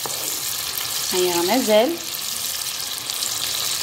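Fat melting in a pan for small vegetable msemen, a constant crackling sizzle close by, with a short spoken remark briefly over it partway through.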